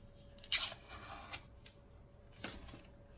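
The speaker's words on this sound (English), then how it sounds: "So let me take out this sticker." A protective sticker is peeled off a Hohem iSteady X gimbal, making a few short, crisp crackles and rips. The sounds are close and quiet, and there is no talk.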